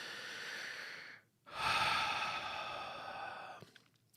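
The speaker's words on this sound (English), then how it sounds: "I want you to take a nice big deep breath" A single deep breath taken slowly in, followed by a long, audible exhale through the mouth, close and alone, with a brief hush between the inhale and the release.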